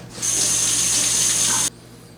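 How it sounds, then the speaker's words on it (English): Tap water runs loudly and steadily as hands are rinsed under it, lasting about a second and a half before being shut off abruptly, in a kitchen while grilled carne asada with salsa verde is made. "let me quickly go rinse my hands."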